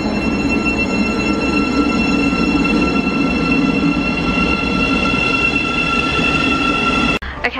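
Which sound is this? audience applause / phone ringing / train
train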